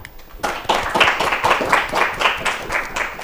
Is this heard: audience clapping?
yes